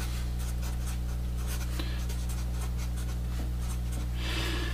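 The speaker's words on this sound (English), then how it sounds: "I'll write that down." Pen writing on a page while working a cycloid-motion physics example, with soft scratchy strokes in short irregular bursts over a steady low hum, faint and close.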